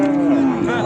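A cow at a livestock market lets out a short, loud, close moo that sounds tonal and low-pitched and lasts under a second.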